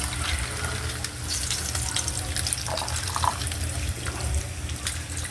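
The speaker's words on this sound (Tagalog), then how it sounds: "Lagyan na rin natin ng tubig." Water pours into a pan of cooked dried fish (tuyo) for escabeche, a steady running, splashing stream heard close and alone for several seconds.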